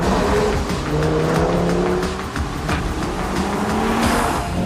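An Audi Quattro four-wheel-drive car revs and accelerates hard, its engine loud and close as it climbs through the gears, with a continuous roar and rising tones.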